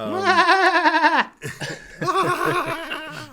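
A goat scream from the horror film Ready or Not: a loud, close, strained bleat that wavers, breaks off, then returns as a second long, shaky wail fading into a rattling end.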